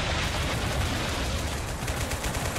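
Dense, sustained gunfire rattles in the Total Conflict Resistance war game as rifles and RPGs open up, a loud continuous barrage of overlapping shots with no talk.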